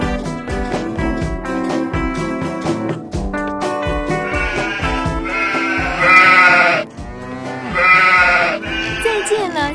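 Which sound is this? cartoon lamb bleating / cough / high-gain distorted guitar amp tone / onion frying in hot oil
cartoon lamb bleating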